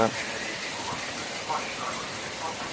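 Steady rain falls outside a balcony in a continuous broadband hiss, loud and even from start to finish with soft patter details.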